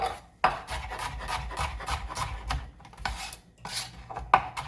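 A medium onion being diced with a knife on a board while cooking pumpkin soup: a steady run of close, crisp chopping and scraping strokes, with no talking.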